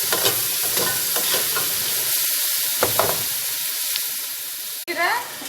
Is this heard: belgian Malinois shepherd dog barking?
no